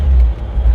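A 1942 Willys gasser pulling away from about 25 mph as the throttle is pressed, giving a loud, deep engine roar up close in a short burst.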